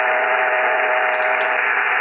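Radio receiver hiss from a mini-whip antenna without noise canceling, a loud steady band-limited static wash with a faint underlying tone and brief crackles, no voices.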